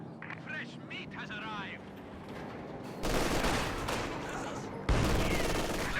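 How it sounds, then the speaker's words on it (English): Rapid gunfire and explosive bursts from an SU-76 self-propelled gun barrage in Company of Heroes 2, a loud, dense barrage swelling near the middle and hitting again near the end, with a voice talking over the start. "Comes in for the close range SU-76 barrage, and it pays dividends there."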